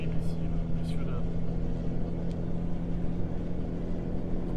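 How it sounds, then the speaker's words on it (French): Truck engine in Euro Truck Simulator 2, a 690-horsepower rig, droning steadily and loudly throughout with a constant low hum, while a voice speaks over it. "Le bruit du moteur est terrible."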